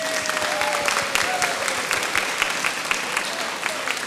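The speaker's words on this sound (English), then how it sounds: "Can we please have an applause for the recent graduates?" Sustained clapping from an assembled crowd honoring recent graduates at a live-streamed ceremony, continuous and fairly loud with sharp individual claps standing out, while a voice faintly carries underneath.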